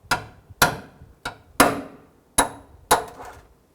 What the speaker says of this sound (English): go ahead and use our punch and pop this one out